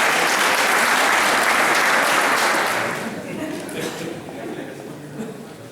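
Audience applauding cyclists at an FSGT Sarthe cycling awards evening: dense, loud clapping fills the first few seconds, then thins and fades under a speaking voice.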